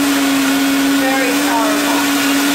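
A Vitamix blender runs on turbo blend, whirring a green smoothie with a loud, steady high-pitched motor roar and constant whine that fills the space, with a brief word spoken over it.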